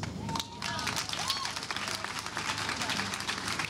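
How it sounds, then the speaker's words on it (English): Audience at a panel discussion gives a speaker a round of applause, fairly quiet but continuous clapping from many hands lasting a few seconds, with a voice briefly heard over it. "please give her another round of applause"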